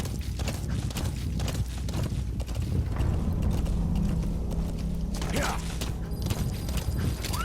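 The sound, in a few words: horse hooves galloping in video game Metal Gear Solid 5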